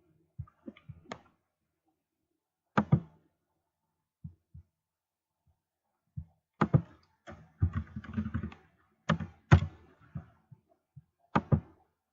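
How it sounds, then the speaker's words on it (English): Keyboard typing on a computer, delivered in irregular bursts of clicking keystrokes with short pauses between them, fairly close and clear with no talking. "I'm just typing it in."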